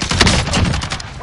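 A short, loud burst of rapid gunfire in a PS4 video game, several overlapping shots packed into about a second.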